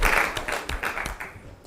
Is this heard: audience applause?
yes